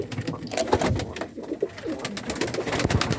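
Pigeons coo in soft, repeated throaty calls, several birds overlapping close by with rustling in between.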